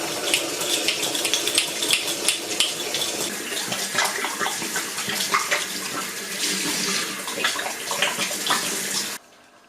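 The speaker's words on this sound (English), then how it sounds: "fill them with warm water, and then I'll give them a good poking with the old brush" Warm water runs steadily from a tap into homebrew bottles being filled for rinsing, a continuous close splashing hiss that holds level for about nine seconds before cutting off abruptly.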